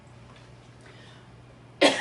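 A single short, sharp cough bursts out near the end after a quiet, nearly empty room hum.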